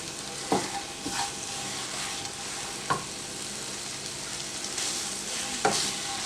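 Khoya cooks on low heat in a pan while a spoon stirs and presses it, giving a steady close sizzle punctuated by a few distinct spoon knocks and scrapes spaced a second or two apart.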